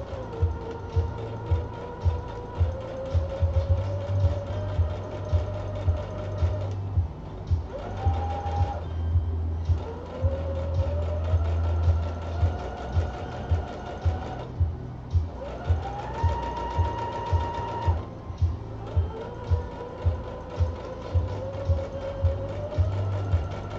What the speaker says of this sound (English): and I'm going to top stitch this.